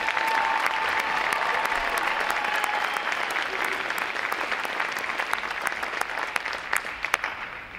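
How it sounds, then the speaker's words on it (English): A large audience at a U.S. Navy recruit training graduation ceremony claps in a dense, continuous roar of applause that holds evenly for the whole stretch, fading slightly toward the end. "Let's give them a round of applause for outstanding performance."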